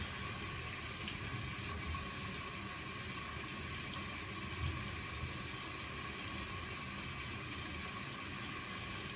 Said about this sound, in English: Sorry, y'all, that's my water running.